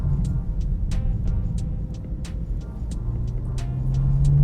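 A BMW M4 CS exhaust burbles with a deep low rumble dotted with sharp crackling pops, the engine note rising toward the end.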